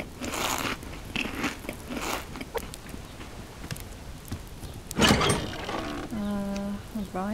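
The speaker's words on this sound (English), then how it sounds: "We can eat a couple of these berries." Eating berries in the survival video game Subsistence: a run of crisp crunching bites and chewing, then a pause and another burst of crunches, followed by a brief tonal game cue.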